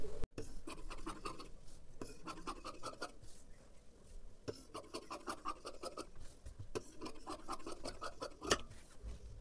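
Scissors snip through fabric while cutting a strip for blouse sleeves, giving repeated close crisp clips in short bursts with brief pauses between runs.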